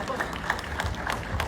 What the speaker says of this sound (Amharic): ኮማን ጭብጨባ more energy